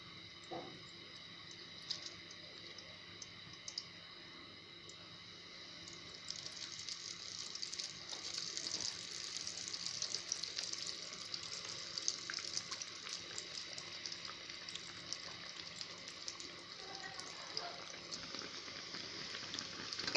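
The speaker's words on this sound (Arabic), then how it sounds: "هنا انا سخنت الزيت، هبدأ بقى احط البرجر" Burger patties sizzle in hot oil in a home kitchen. A soft, steady frying hiss runs throughout, with faint pops and crackles that grow slightly busier over time.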